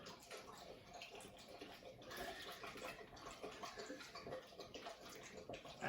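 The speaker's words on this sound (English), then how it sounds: "That is the dog drinking water, if you can hear that in the background." A dog laps water from its bowl in the background, a soft, continuous wet splashing and slurping that runs steadily for several seconds at moderate distance.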